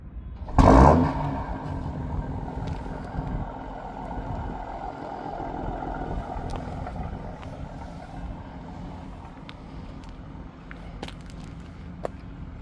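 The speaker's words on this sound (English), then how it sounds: "Let's make sure that M Performance exhaust sounds good." A 2026 BMW M340i 50 Jahre Edition with M Performance exhaust starts up: a sharp, loud cranking burst and flare, then settling into a steady, low, rumbling idle close by.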